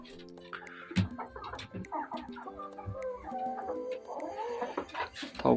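Hens clucking inside a heated chicken coop, several birds making repeated short clucks and drawn-out calls close by, continuous and fairly faint.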